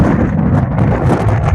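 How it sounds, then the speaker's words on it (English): Strong wind buffets the microphone on an afternoon golf course at Consett and District Golf Club, a continuous loud rumbling roar with no break. "It's always going to be wild and windy."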